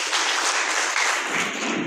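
Members of an employees' cooperative credit society at their 2024 annual general meeting clap together in a dense, steady burst of applause lasting a couple of seconds, with no voices over it.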